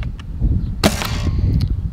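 A single sharp pop of a stock-spring SBL Nerf blaster firing a dart, loud and close, with a short bright burst and brief trailing air hiss.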